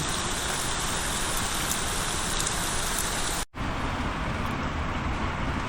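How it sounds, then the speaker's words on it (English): Heavy rain pouring down outside a car repair shop, a loud, constant roaring patter close by, briefly cut by a split-second gap before resuming just as dense, with no voices. "Yep, it's another rainy day at the shop."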